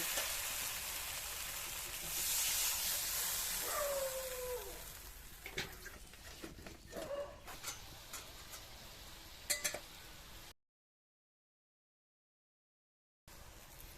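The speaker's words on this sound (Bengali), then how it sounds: "মশলা থেকে তেল ছেড়ে দিয়েছে, এবার জল দিয়ে দেব।" Water poured into hot, oil-released masala with turmeric for a village-style katla fish biryani, a loud broad sizzle that flares and gradually settles into softer crackling with a few clicks, ending in near silence.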